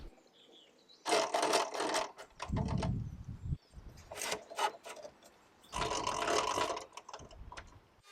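Painted wooden drawer fronts being reshaped and stripped of paint, with bursts of harsh abrasive rasping and rubbing in strokes of a second or two, close and fairly loud, separated by short quiet gaps.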